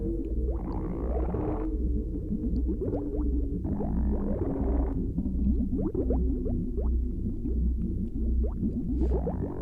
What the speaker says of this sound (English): Just like a gurgling in the background that always sounds like somebody who's really hungry